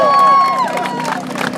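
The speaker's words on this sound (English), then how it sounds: "Give them a round of applause." A crowd at a free speech rally on the UC Berkeley campus cheers and claps for the Berkeley police in one loud close burst, with voices shouting through the applause.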